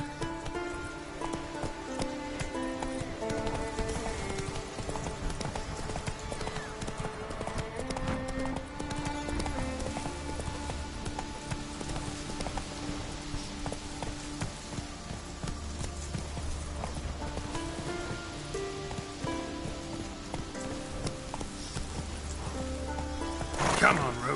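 Roach, the horse in The Witcher 3: Wild Hunt, gallops with a steady clip-clop of hooves under continuous game music and ambience, while a voice talks over it in places.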